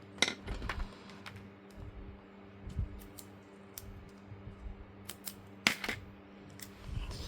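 Scissors snipping through paper for a Taj Mahal junk journal, a handful of crisp, close cuts scattered across a quiet tabletop with light rustling between them.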